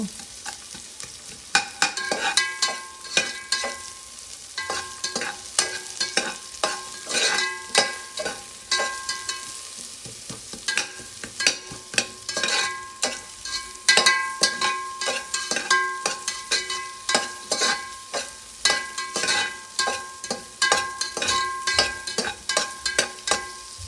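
Spices frying in a pan for Mangalore-style patrode curry, a steady sizzle broken by repeated scraping stirs in an uneven rhythm, close and fairly loud with no talking.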